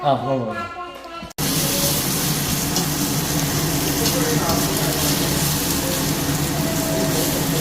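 Fish sizzles steadily in hot oil while being fried for a fish biryani. A dense, even crackling hiss starts abruptly after a brief quiet opening and holds at a constant, fairly loud level.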